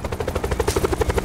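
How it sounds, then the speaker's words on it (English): A helicopter in Call of Duty Black Ops 4 Blackout chops steadily nearby, its rotor thumping in a fast, regular pulse, loud and alone with no voices. "There should be a chopper around somewhere."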